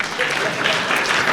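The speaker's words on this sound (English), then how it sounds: "if you are clapping, let's clap." An audience at a book launch in Nairobi breaks into a short, dense round of applause that fills the room, heard close and loud.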